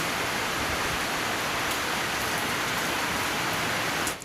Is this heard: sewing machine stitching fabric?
no